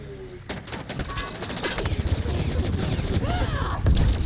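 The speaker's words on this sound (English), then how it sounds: "Dude, stop shooting at me!" Gunfire in a Mass Effect: Andromeda firefight, rapid sharp shots crackling steadily and growing denser toward the end, with a brief voice near the start.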